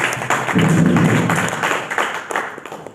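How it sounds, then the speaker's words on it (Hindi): An audience at a Constitution Day event held by an advocates' council claps in a short, uneven burst of close, thumping hand claps that gradually thins out. "ताली बजाओ भाई।"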